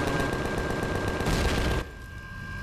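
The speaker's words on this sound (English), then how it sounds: "Just going to charge in and freaking shoot it." A rapid burst of automatic weapon fire in the Empyrion Galactic Survival game rattles loudly and close for almost two seconds, then stops abruptly, leaving a quieter steady hum.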